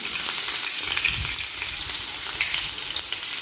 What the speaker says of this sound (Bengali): কড়াইতে দেওয়া সরিষার তেলটা প্রায় গরম হয়ে এসেছে। এখন আমি এখানে অ্যাড করে দেব সেই পেঁয়াজ কুচি বাগারের জন্য।